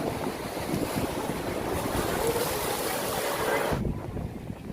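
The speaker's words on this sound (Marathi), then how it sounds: "भरपूर अशी बघू शकता लाटा भरपूर उडत आहेत" Ocean waves splash against the shore at Marine Drive in Mumbai, a steady loud roar of surf with wind buffeting the microphone, cutting off abruptly near the end.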